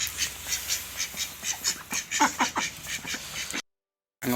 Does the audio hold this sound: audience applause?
no